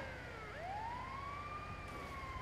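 Ambulance siren in the video game Grand Theft Auto, one clear rising wail that holds high over a low engine rumble, no talking.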